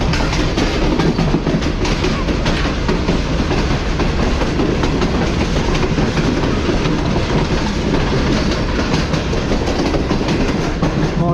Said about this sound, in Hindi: तो ट्रेन हमारी इस वक्त स्किप कर रही है लाहौर कैंट रेलवे स्टेशन को।